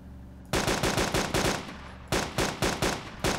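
Rapid automatic gunfire in the DayZ Epoch video game, aimed at a griffin, comes in loud, close bursts of repeated shots with brief pauses between volleys.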